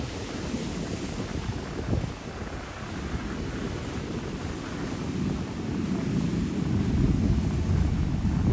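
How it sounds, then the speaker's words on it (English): Heavy surf pounds a rocky Fuerteventura coastline in strong wind, a continuous loud roar of breaking waves with gusting wind noise on the microphone, swelling louder toward the end. "These waves are pretty huge."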